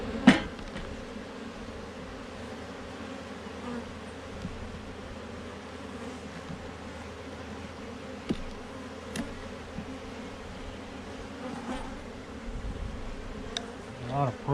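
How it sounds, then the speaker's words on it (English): Bees buzz around a hive that has just swarmed, a steady agitated drone with a few clicks and knocks from the hive frames during the inspection. "These bees are going to be stirred up."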